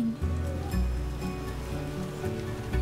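Steady rain falling in The Witcher game, a continuous hiss of drops on surfaces over low ambient game rumble, with no talk.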